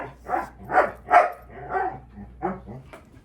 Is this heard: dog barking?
yes